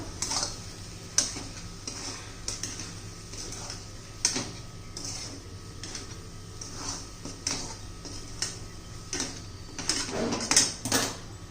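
A coconut sweet mixture is stirred in a pan, a spoon clinking and scraping against the metal in irregular taps and scrapes that grow busier toward the end.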